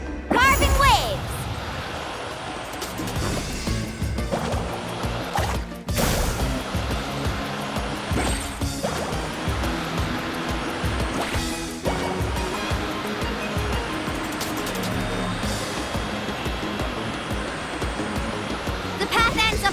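Surfing across water waves in Genshin Impact, a steady rushing surf-and-spray wash that runs loud and continuous throughout, with game music and voices layered over it.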